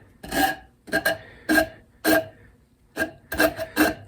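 Rasping strokes of a file or rasp beveling the top edge of a handmade wooden weeding tool: about seven short scraping passes in an uneven rhythm, close and fairly loud, with no talking.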